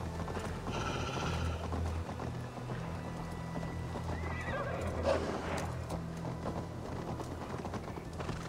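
Horse neighs and hooves clip-clop steadily in the Viking-age world of the Assassin's Creed Valhalla video game, with a mount ridden at a walk through an open outdoor landscape and no talk over it.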